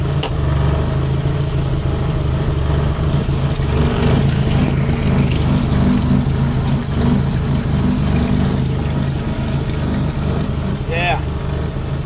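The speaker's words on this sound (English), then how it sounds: "that pump, that Jabsco cycle, it's got some good flow." Jabsco fuel pump running in a Toyota MR2, a steady low droning hum with some liquid flow, continuous and fairly loud, with a person talking faintly over it.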